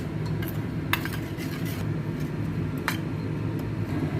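A spoon clinks and scrapes against a bowl while ginger, asafoetida, turmeric, salt and water are stirred into a paste, with sharp intermittent taps over a soft background rumble.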